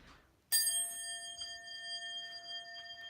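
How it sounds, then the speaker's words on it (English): A bell struck once from an unboxing, ringing with a bright, sustained metallic tone that holds steady to the end after a quiet start. "We'll ring the bell one more time while we're in here."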